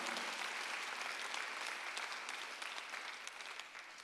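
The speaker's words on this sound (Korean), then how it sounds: "박수 한번 하세요" A church congregation claps together at a Sunday worship service, a steady wash of applause held evenly for about four seconds at moderate distance, with no voices rising above it.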